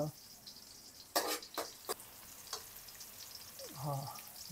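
Chopped onions sizzling in a hot pan while cooking egg rice, a low steady fry with a few sharp stirring scrapes and clinks, and a voice talking briefly near the end.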